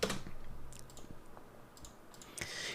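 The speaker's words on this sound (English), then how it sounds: "I'm just going to hit tab and type group." Quiet computer keyboard typing: a few scattered key clicks and taps in short bursts, with no talking.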